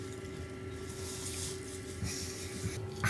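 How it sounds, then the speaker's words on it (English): Diesel heater running inside a van, a faint steady hiss and low hum with a constant tone, soft and continuous for a few seconds. "That noise you can hear, it's the diesel heater."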